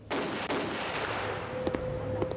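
Gunfire in a haunted house video game, a dense stretch of rapid shots in a steady burst, loud and close, with a sustained tone toward the end and no voices.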